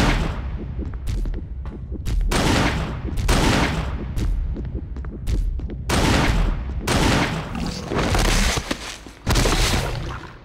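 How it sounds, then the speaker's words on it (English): Heavy Magnum revolver shots in Resident Evil REmake, fired at the Tyrant boss, booming blasts with echoing tails, several in succession at irregular intervals and loud throughout. "it took 5 shots from the Magnum Revolver to take down the Tyrant"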